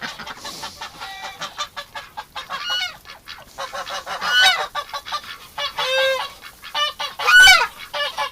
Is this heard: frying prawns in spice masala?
no